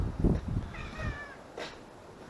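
A cat meows close by in a quiet space, with a soft, drawn-out call in the middle and a shorter cry after it, and no talking over it.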